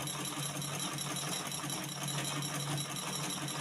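A sewing machine stitches fabric along a curved line, a steady close mechanical whir with a fast regular needle rhythm running continuously throughout.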